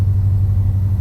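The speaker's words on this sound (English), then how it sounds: "a sound like a rattle can inside of a spray can" A C6 Corvette with a failing driveshaft gives off a steady, loud low rumble close by, a constant droning hum with no pauses and no talking over it.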